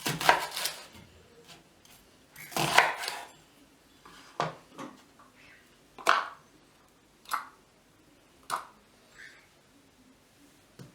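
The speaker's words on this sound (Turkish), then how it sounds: "Soğanlarımızı da yemeklik boyutta doğrayacağız." A knife chops onions steadily on a cutting board, a quick burst of cuts and then single sharp thuds at a regular pace, close and clear with no talking.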